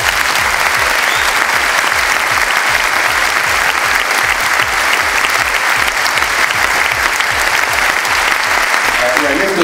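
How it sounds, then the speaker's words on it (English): Crowd applauding at a pensions strike rally in Truro, a loud, dense and continuous round of clapping close by that fills the whole stretch without pause. "if we could give them a round of applause."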